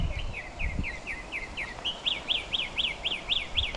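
A bird in the Cayman Islands repeats a sharp, rhythmic series of clear whistled notes, about a dozen evenly spaced calls that grow louder and higher partway through, close by over faint low rumbling.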